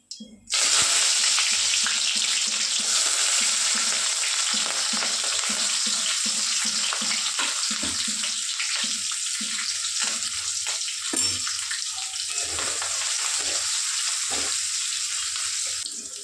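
Mustard seeds, onion, green chili and curry leaves fry in hot oil with a loud, steady sizzle close by. Rhythmic stirring and scraping in the pan runs through it, and no one talks.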